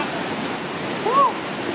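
A waterfall in Oregon roars as a constant, dense wash of white noise, heard close and loud, with a brief faint voice rising over it.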